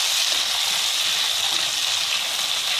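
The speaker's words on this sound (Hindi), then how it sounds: "प्याज और ये हरी मिर्च, ये सब साथ में डाल के हम ब्राउन होने तक इसको फ्राई करेंगे" Onions, garlic and green chillies fry in a pan with a loud, steady, close sizzle that holds without a break for a few seconds. No one speaks over it.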